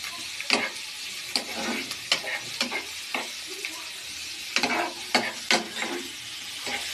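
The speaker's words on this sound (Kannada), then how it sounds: "ಎಣ್ಣೆಯಲ್ಲಿ ಚೆನ್ನಾಗಿ ಬೇಯಿಸಬೇಕು." Food frying in a little oil in a pan gives a close, steady sizzle, broken by repeated bursts of stirring and scraping. Nobody speaks.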